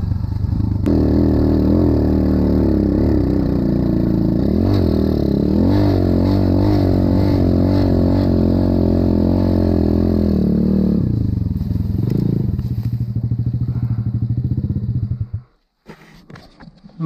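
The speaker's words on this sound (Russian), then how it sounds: "Местами иногда, конечно, пробуксовывает мотоцикл." A Jumper FX125 trail motorcycle rides through slippery mud with its wheel spinning at times. The engine drones loud and close for about fifteen seconds with shifting revs and faint clatter, then cuts off abruptly.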